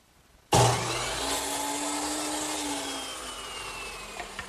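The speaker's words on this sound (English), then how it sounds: "I'll cut them right here on the miter saw" A miter saw spins up abruptly and cuts through a wooden piece, a loud, close, sustained whining roar holding for several seconds before slowly easing off.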